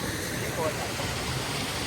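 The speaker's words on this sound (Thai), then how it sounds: "น้ำตกในป่าลึก" A waterfall in deep forest pours from above in a dense, steady roar of rushing water, close and continuous for a short stretch with no clear voices over it.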